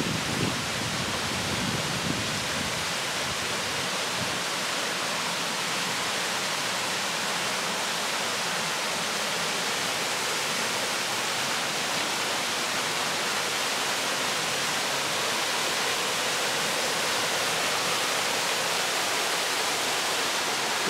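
Constant loud rushing roar of falling water at Dogwood Canyon, Branson, Missouri, broad and unbroken throughout, like standing near a waterfall.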